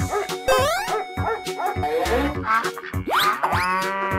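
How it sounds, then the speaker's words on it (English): Cartoonish dog sounds in an escape-room guessing game, a quick series of yips, bow-wows and whimpering whines with bouncy pitch swoops, close and lively. "Dog."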